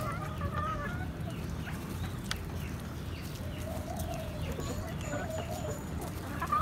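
Laying hens on a small farm cluck and cackle in scattered calls over a low, busy background, fairly close, with someone talking over them.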